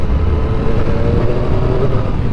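Triumph Triple RS motorcycle riding on country roads, a loud, steady engine drone with a low throbbing rumble and wind rush throughout, heard up close with no one talking.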